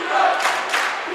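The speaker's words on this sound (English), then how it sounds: "Now the crowd's getting into it, Brett. You can hear them right now just to the left of us." Crowd at a boys high school basketball game, Brookings at Sioux Falls O'Gorman, cheering and shouting in a brief, loud swell that rises and falls twice within about a second.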